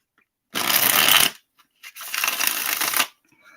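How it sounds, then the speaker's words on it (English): Tarot and oracle card decks shuffled close by in two loud, dense bursts of riffling, separated by a short pause with a couple of soft taps. "I have shuffled decks"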